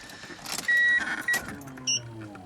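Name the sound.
Walbro 255 fuel pump priming in R33 Skyline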